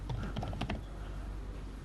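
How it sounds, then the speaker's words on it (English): Fingers typing quickly on a computer keyboard, a burst of sharp clustered keystrokes up front that thins to sparse light taps, close and fairly quiet over a low background hum. "My typing's gonna get a bit sloppy here."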